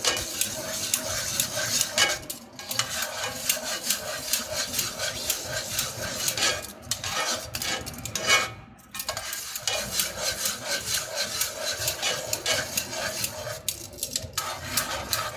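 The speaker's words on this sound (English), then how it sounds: "Keep moving this cube around, trying to help it to dissolve." A spoon scrapes and stirs through tomato sauce in a pot, working a stock cube in to dissolve it for pot roast. The stirring is continuous and close, with clinking strokes against the pan.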